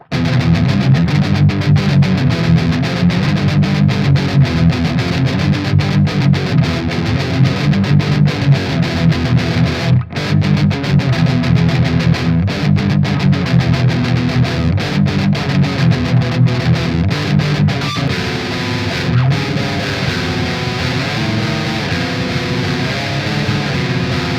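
A heavily distorted electric guitar plays through a Fender Mustang Micro amp model's Uber setting, sustained, saturated chords and riffs, loud and dense throughout with no reverb or added effects.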